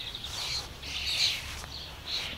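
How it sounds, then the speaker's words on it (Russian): Starlings flying over a garden give several bright, high chirps in short bursts, moderately distant, over a steady low outdoor hum. "О, скворцы летают."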